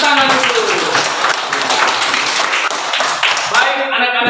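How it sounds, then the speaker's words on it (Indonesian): Schoolchildren in a classroom clap their hands together, a loud, dense burst of clapping mixed with young voices, which breaks off abruptly near the end. "Luar biasa, tepuk tangan dulu."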